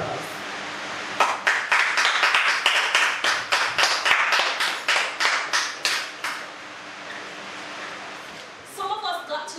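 Rhythmic clapping at a virtual high school graduation, sharp claps in a steady beat that starts after a quiet moment, runs for several seconds and then stops as a voice begins speaking.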